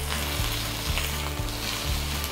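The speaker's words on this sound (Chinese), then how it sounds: "目的是要把五花肉煎到酥脆" Pork belly sizzles steadily in a pan over medium heat as its fat renders out, a dense continuous frying hiss with faint low thumps recurring about every half second, close and loud with no voices.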